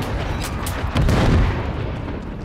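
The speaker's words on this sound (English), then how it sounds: "launched a cruise missile. Inside the house?" A cruise missile explodes in Modern Warfare 3 multiplayer, a loud, dense, rumbling blast that swells briefly and keeps roaring through the whole moment, with no voice over it.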